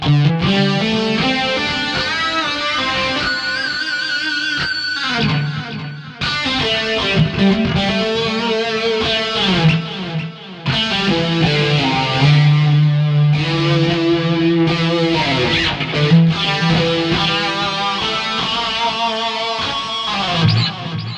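A bright, twangy electric guitar through a bridge single-coil pickup, tone and volume fully up, plays continuously and loudly, strummed chords and ringing notes with no voices.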